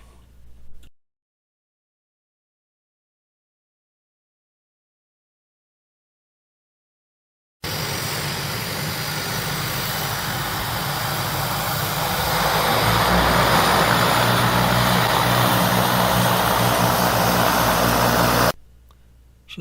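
A floatplane comes in to pick up canoe campers on a remote lake in Atikaki, its propeller engine droning steadily and growing louder as it nears, heard alone after a stretch of near silence.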